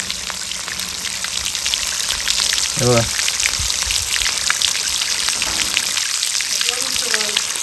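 Water gushing from a borewell pipe makes a steady, loud, splashing rush throughout, with a few short voices speaking over it.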